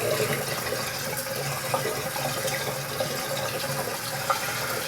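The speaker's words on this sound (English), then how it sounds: "Let's get some more water in this tin." Water runs steadily from a tap into a metal shaving tin, a continuous close splashing fill with no voices.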